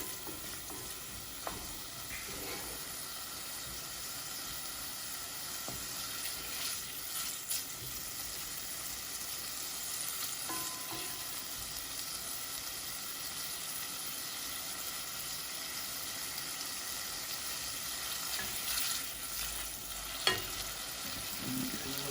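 Bacon fries in a pot, rendering its fat for New England clam chowder, a low, steady sizzle with occasional stirring scrapes and clinks throughout, close and unaccompanied by speech.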